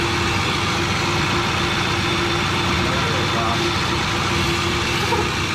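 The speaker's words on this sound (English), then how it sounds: "You can hear the lifters a little bit" A 1,000-horsepower sleeper Ford F150 engine idles steadily just after its first start, a continuous close rumble with a light ticking from the lifters, while someone talks over it.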